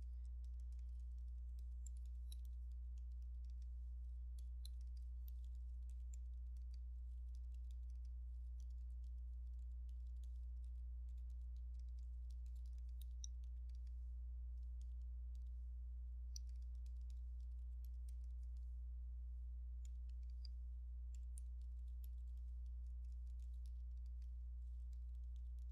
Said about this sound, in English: I'm going to hit on the keyboard, my enter key, and then I'm going to type my message.